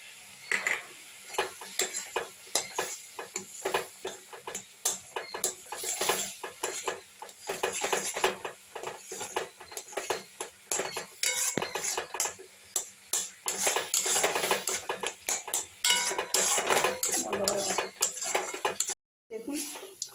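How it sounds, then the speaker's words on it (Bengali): A spoon scrapes and clatters in a pan while 250 g of fresh chhena with honey is stirred and dried into a mango sandesh mixture, in quick irregular strokes close by with faint talk in places. "দেখুন এভাবে নেড়ে নেড়ে শুকনো করে নিতে হবে"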